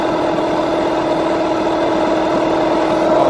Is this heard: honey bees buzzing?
no